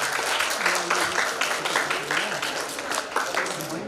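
Applause from the audience at a state school chess championship, dense steady clapping across the whole stretch, with a voice speaking over it.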